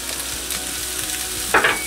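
Pan-fried potatoes with meat and onions crackle in a steady, close sizzle, with a brief utensil scrape near the end.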